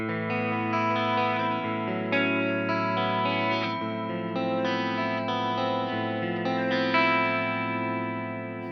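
Clean electric guitar, a Legator N8FP eight-string with Fishman Fluence Tosin Abasi pickups, rings out in sustained chords and notes, bright and shimmering with a chorus-like effect, played continuously without talking.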